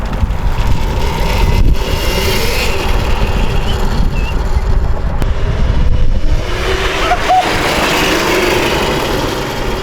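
An electric go-kart being driven fast, its motor sound buried under heavy, steady wind rush and buffeting against the microphone, loud and continuous throughout with no speech.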